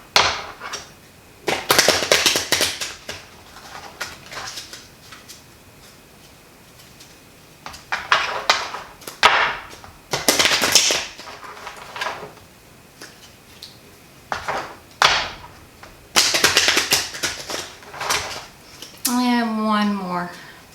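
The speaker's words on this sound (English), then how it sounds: "Let me go ahead, shuffle the deck, and see what we end up with." A deck of playing cards is shuffled in several short bursts of riffling and flicking, close and crisp, separated by pauses, ending with a bridge-like flutter.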